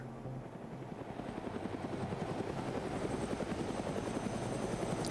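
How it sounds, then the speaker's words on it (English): A Huey helicopter in the video game Arma 3 flies over the Tanoa jungle, its rapid rotor chop steady and growing gradually louder as it nears. "Independent's using that Huey to kind of scout this ridge out"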